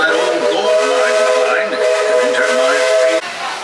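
Magic Kingdom steam train whistle sounds as a long, steady, loud tone with hissing steam beneath it, held for about three seconds before cutting off, with faint crowd noise around it.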